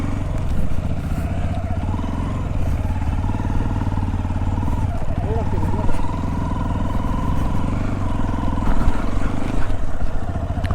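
Xpulse and Duke motorcycles climb a hill near Chikkamagaluru, their engines a loud, continuous close-up drone that rises and falls slightly under load, with a faint whine over the top.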